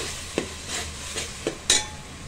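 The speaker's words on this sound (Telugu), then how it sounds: "ఇందాక కొంచెం కొత్తిమీర కాడలు ఉండే కదా అవి వేసేస్తున్నా, మళ్ళీ ఆకులు ఉన్నాయి అవి తర్వాత వేస్తా. జస్ట్ కొంచెం పోపులో వేద్దామనేసి" Coriander stems drop into hot tempering oil for a fish curry, giving a few short sizzling bursts with light stirring and utensil clinks in between, close and moderately loud.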